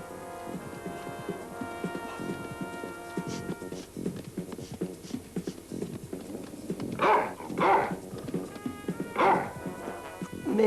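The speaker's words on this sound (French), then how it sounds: "mes fidèles chiens de chasse" Hunting dogs bark out in the woods, with several loud yelps and barks bursting out over a steady musical background in the latter half.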